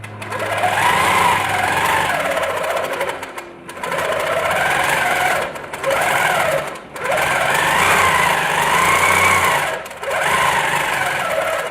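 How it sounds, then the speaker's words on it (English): A Handi Quilter Infinity 28 longarm quilting machine stitching free motion: a steady, loud mechanical whir with rapid needle rhythm, running in long bursts broken by three brief pauses, with no talking. "So I'm basically going to press the star key and then start stitching."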